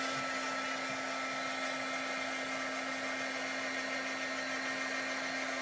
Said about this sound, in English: let me just get my heat tool going here